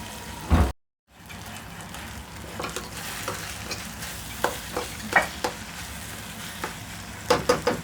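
Mutton keema frying in a pan, a continuous close sizzle broken by repeated scraping stirs and spatula knocks at irregular intervals, after a brief cut to silence near the start.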